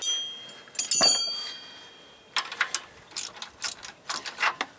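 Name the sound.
ratchet wrench skipping while removing power washer pump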